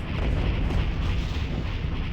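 Ion cannon fire in a Star Wars space-battle strategy game over Kashyyyk: a loud, dense, continuous roar that holds steady throughout, with no gaps and no speech.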